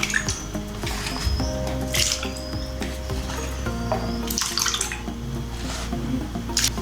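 Sliced potatoes being rinsed in a pan of water in a home kitchen: steady sloshing and trickling water with small splashes, close and continuous, over a faint steady background tone.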